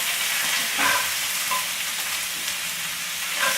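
Onions frying in a pan with beef are stirred, giving a loud, continuous hissing sizzle with occasional scraping strokes from the spoon.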